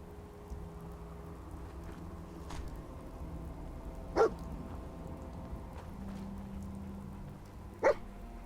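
Dogmeat the dog in the Fallout 4 video game gives two short, fairly faint barks several seconds apart over a quiet ambient background.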